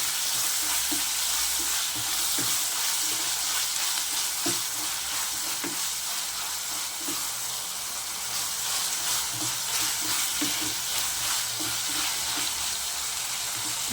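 Tomatoes, cashews and spices with a little salt frying in a pan for chicken curry, a constant loud sizzle with soft stirring taps throughout and no talking.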